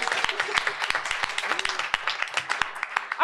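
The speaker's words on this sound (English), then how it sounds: "Give him a round of applause." A live audience at a games expo music show claps for a performer, with scattered distinct claps mixing into a thin round of applause and a voice speaking near the end.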